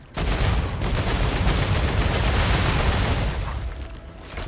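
Sustained rapid automatic gunfire in the StarRupture video game, a dense, loud burst of shots lasting several seconds with no talking.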